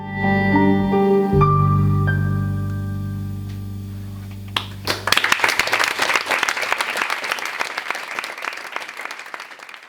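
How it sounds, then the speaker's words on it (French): Audience applause after a show, bursting in about halfway through right after sustained musical tones fade, then continuing as dense, steady clapping from a sizable crowd to the end. "Les applaudissements font toujours chaud au cœur pour les organisateurs et les artistes."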